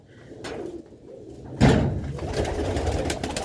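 Sialkoti pigeons cooing close by, soft low coos followed by a sudden louder burst of rustling or flapping and continued busy movement.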